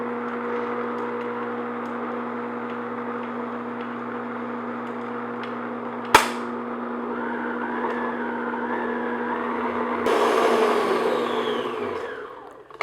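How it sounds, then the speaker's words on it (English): A steady electric mixer hums on medium-high speed, beating sugar frosting for a vanilla sheet cake, with a constant drone, one sharp knock midway, and a brighter, louder whir near the end. "I'm going to mix it on medium-high speed until it's really nice and light and fluffy"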